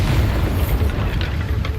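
A Bombarda spell in Hogwarts Legacy goes off as a loud, booming explosion, one dense rumbling blast that fills the moment and then holds a noisy roar.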